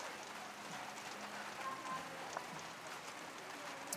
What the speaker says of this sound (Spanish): la lluvia cayendo